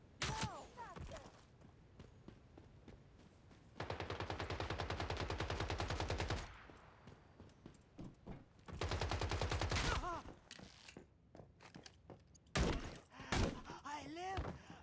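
Sustained bursts of automatic gunfire in the survival shooter Once Human, two long loud volleys with scattered single shots between, while a voice shouts and reacts over the action.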